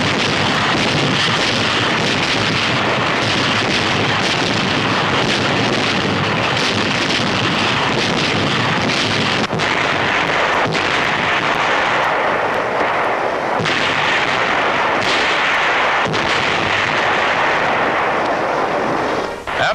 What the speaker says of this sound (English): After 4 days of air and naval bombardment, United States Marines take over.